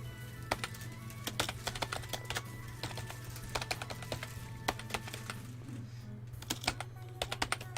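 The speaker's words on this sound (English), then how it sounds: "typing here." Steady, close clicking from computer keyboard typing continues throughout as text is entered into a post, with irregular keystroke bursts over a constant low electrical hum.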